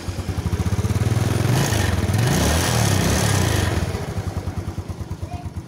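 Carbureted Yamaha Mio scooter engine running nearby, a steady low idle that swells into a brief rev around the middle and settles back to an even, smooth idle.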